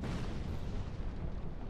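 A deep, booming explosion in the dark fantasy video game Dark Souls II, a dense low-frequency rumble that fills the whole moment at steady loudness, with no talk over it.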